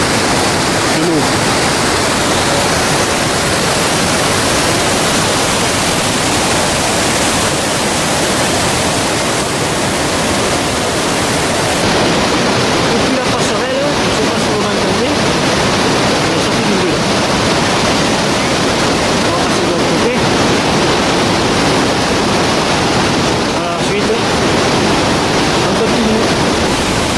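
The Molières waterfall in the Val de Molières roars loud and constant, a dense wash of falling water heard close and unbroken, with occasional voices faint beneath it.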